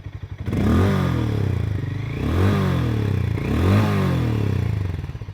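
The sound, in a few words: Hero Mavrick 440 motorcycle exhaust at medium revs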